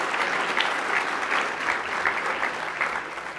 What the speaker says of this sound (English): So can we do a round of applause?